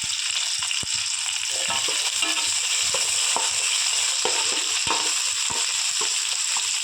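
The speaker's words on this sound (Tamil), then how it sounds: "4-5 வெள்ளைப்பூடு போட்டு இதையும் நல்லா ஒரு 2 நிமிஷம் வதக்குவோம்" Continuous sizzling of ginger and garlic frying in a hot pan, with occasional scraping and stirring clicks from a spatula.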